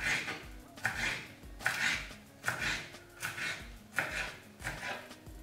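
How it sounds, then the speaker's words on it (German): A knife slices a deseeded bell pepper into strips about 2 cm wide on a board, with seven or so steady, evenly spaced chops, each a crisp, close thud. "die entkernte Paprika schneide ich in Streifen, so ungefähr 2 cm breit"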